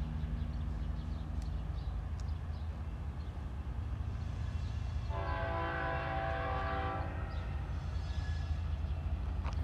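Metrolink commuter train approaching at Highgrove, a steady low rumble of rail noise building throughout, with a loud multi-tone horn blast in the middle and a fainter second blast near the end.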